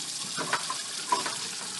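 Water drains slowly off rinsed rice in a pot, a soft trickling and sloshing with a couple of light knocks, close and fairly quiet.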